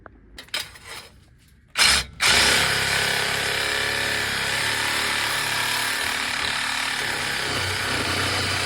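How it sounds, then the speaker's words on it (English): A couple of short bursts give way to a power saw grinding steadily through the stock exhaust pipe of a 1978 Oldsmobile Cutlass, loud and continuous with a harsh, rasping edge. "So I'm gonna get to cutting off that stock exhaust."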